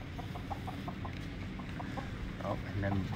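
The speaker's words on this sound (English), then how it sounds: "herding chickens" Chickens being herded at a corgi breeder's home cluck in a quick string of short, soft clucks over a low background rumble, with people talking nearby.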